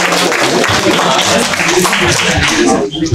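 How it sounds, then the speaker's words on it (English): A round of audience applause at a hackathon winners' event, loud and close, with steady clapping and some cheering voices in the crowd for about three seconds. "let's go one more round of applause"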